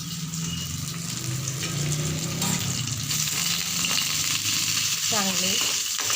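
Green chillies fry in hot oil in a home kitchen, giving a loud, steady sizzle and crackle with faint stirring scrapes throughout, without talking.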